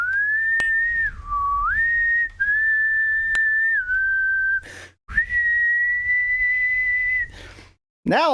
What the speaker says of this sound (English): Now I'm whistling the music you can't hear for copyright reasons.